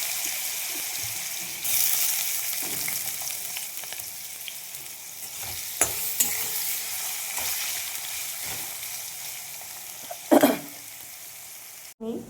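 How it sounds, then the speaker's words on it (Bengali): Potatoes fry in hot oil with a constant, moderately loud sizzle and hiss, with a few brief utensil clatters toward the end and no talking. "এবার আমি আলু ভেজে দেবো।"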